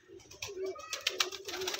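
Pigeons kept in a small cage give soft, close coos in a few short repeated phrases, fairly quiet against the background.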